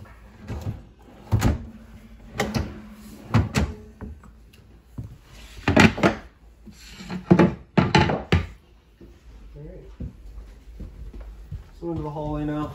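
Cabinet drawers and doors in a 2021 Sandpiper 401FLX fifth-wheel RV are opened and shut, giving a series of sharp wooden thunks and slides, close by, with someone talking between them.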